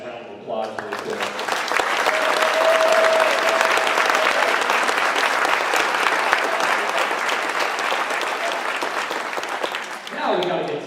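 A concert audience gives a sustained round of applause for student band performers at a high school spring concert, dense steady clapping swelling and holding for several seconds before tapering, with a voice briefly heard at the end.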